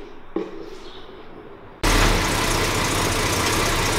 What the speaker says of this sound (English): In this particular case, you check it while it's idling in park.